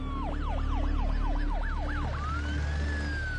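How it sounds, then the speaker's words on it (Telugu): An ambulance siren wails in a fast, repeating up-and-down sweep. It then shifts to a long, smooth tone over a low engine rumble, sounding fairly close and passing by, at an accident scene in a Telugu political drama film. "ఇటువైపు నుంచి అంబులెన్స్ వెళ్తుంది."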